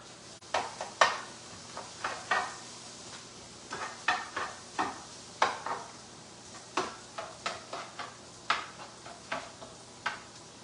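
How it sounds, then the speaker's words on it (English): Vegetables, including large onion pieces, are stirred in a pan for a jerk salmon and coconut rice meal: a quick run of close, distinct scraping and clinking strokes of a utensil against the pan over a soft sizzle, with no talking. "Give these veggies a quick stir."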